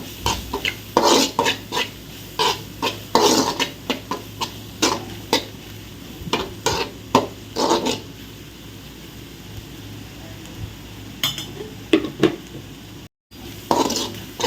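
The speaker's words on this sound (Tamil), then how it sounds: "அந்த காய்கறி வசங்கும் போதே மசாலா வந்து நல்லா வதங்கட்டும்" Vegetables with masala are stirred in a pan for a vermicelli dish, with repeated scraping and clanking of a spoon against metal in irregular bursts over a faint sizzle, with pauses between strokes.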